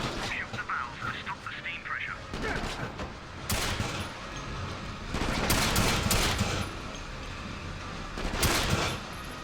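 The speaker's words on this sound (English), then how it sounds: "Because I am getting shot at." Gunfire in the PS2 video game Quantum of Solace, aimed at the player on a barge: dense, continuous bursts of shots and heavy crackling fire, with swells of louder volleys midway and near the end, under a game soundtrack.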